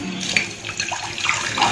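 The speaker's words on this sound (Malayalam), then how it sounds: "ഗ്ലാസിന്റെ പാത്രത്തില് വെള്ളം എടുത്തിട്ടുണ്ട്. ഇതൊരു മുക്കാൽ ഭാഗത്തോളം വെള്ളം നമ്മൾ എടുത്തു." Water poured into a glass container, a short steady splashing and trickling stream, close and clear, with no talk.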